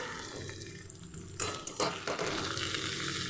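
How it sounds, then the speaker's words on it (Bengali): Potatoes fry in a pan in a home kitchen with a soft, steady sizzle, a brief clatter partway through and no voices. "এখানে দিয়েছি আলুটা ভাজতে"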